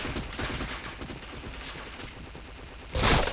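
Rapid gunfire in a video game shooter, a continuous dense crackle of shots ending in a louder burst, with no talking.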